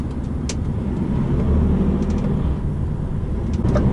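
A car on a Spanish road shifts into gear and pulls away, its engine a steady, close rumble with road noise and faint clicks, no voices over it.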